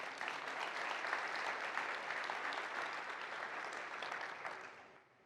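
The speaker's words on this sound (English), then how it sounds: "A round of applause for them as well." Conference crowd at the POST/CON 25 keynote applauds the Postman champions, steady mid-distance clapping that holds evenly and then tapers off in the final half-second.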